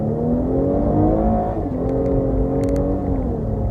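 A 2018 Cadillac CT6 luxury sedan accelerates with a smooth, steady engine drone that rises gradually in pitch, heard loud and close from inside the cabin with no talking.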